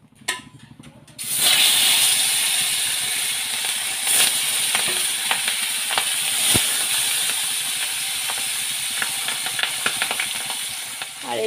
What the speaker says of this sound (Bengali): তো এখন আমি মাছগুলো ভেজে নেব।